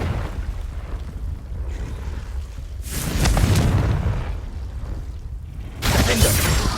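Confringo fire spells burst in Hogwarts Legacy, two heavy booming blasts a few seconds apart, each a sudden broadband crash that rumbles and fades, close and loud.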